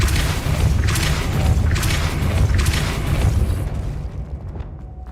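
A Depulso spell in Hogwarts Legacy goes off as a loud, dense burst of blasting noise. Several surging pulses run together before the sound fades out abruptly.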